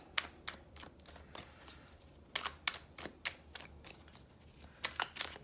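Tarot cards being shuffled and drawn, a run of crisp, quick papery flicks and snaps in irregular bursts, close and fairly quiet over faint low background hum.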